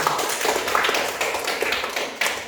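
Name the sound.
classroom clapping for a student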